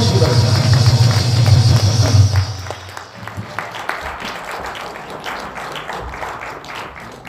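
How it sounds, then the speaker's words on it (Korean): Audience applause at a large outdoor patriotic rally, dense clapping for the first few seconds that fades out and gives way to quieter crowd noise. "큰 박수를 보내주시기 바랍니다."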